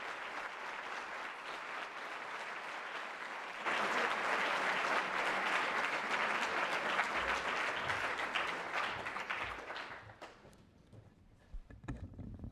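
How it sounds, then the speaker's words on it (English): Warm audience applause welcomes European Commission President Jean-Claude Juncker to a keynote address, a steady wash of clapping that swells louder partway through, then thins out to scattered claps near the end. "Would you please now, with your warm applause, welcome the President of the European Commission"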